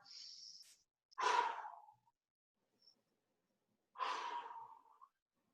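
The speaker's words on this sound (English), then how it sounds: "Let's keep that breathing." Two long, audible exhalations during a guided arm-and-shoulder stretching exercise, each a soft breathy rush that fades out, spaced a few seconds apart and heard close-up, with a faint brief hiss before the first.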